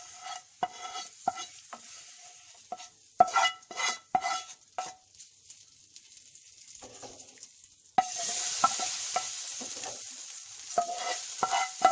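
A fried spice mix is stirred into a soya chunks curry in a pan, bringing repeated spoon clanks and scrapes over a faint simmer, a short quiet gap, then a louder sizzling hiss under continued stirring.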